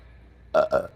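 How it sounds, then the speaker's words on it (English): Two quick, loud burps come in close succession, close and abrupt after a near-silent stretch. "That's what I was waiting on, the burp."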